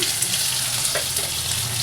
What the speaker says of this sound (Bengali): আলুটাকে একটু ভালো করে ভেজে নিই